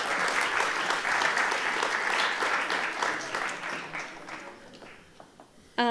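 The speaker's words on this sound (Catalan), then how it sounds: "Un aplaudiment per en Joan" An audience at a Catalan school film festival gala applauds Joan, the jury president. The dense clapping gradually fades into scattered claps, and a voice cuts in right at the end.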